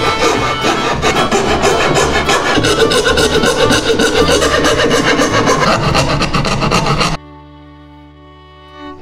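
A coping saw cuts through a section of soft wood for a kids' paddle project, giving steady rasping back-and-forth strokes up close for about seven seconds before stopping abruptly into near silence.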